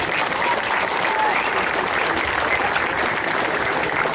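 Audience at a public speech applauds the mayor, a steady dense wash of clapping that holds loud and even from start to finish with no pauses.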